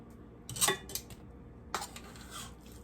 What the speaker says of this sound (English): I'm going to come in and try to evenly line these steaks up